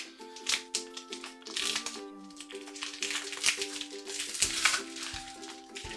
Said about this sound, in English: Just going to open the packet up.